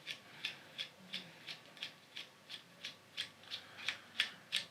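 A Smallrig phone cage adjustment knob being cranked, giving a steady series of about fourteen quiet, evenly spaced ratcheting clicks, close and alone.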